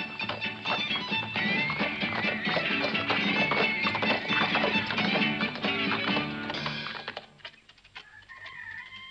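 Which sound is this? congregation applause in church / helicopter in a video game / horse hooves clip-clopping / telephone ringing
horse hooves clip-clopping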